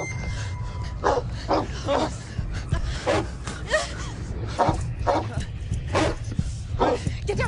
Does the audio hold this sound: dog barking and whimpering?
yes